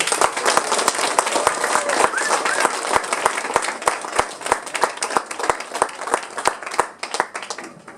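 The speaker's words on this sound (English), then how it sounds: "Can we have a round of applause for all our writers?" Audience applause fills the room at a children's book launch for junior writers, dense clapping with sharp individual claps cutting through, strong at first and thinning toward the end.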